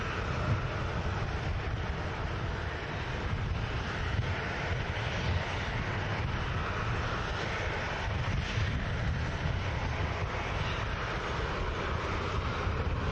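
A fixed-wing airliner departs Manchester Airport, its engines a steady, broadband roar that holds constant for the whole stretch without fading, heard from a distance with no voices.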